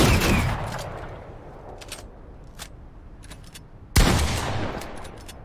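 Gunfire from Fortnite shotguns, a Primal Shotgun among them: a dense burst of shots at the start, a few scattered sharp cracks, then another loud blast near the end.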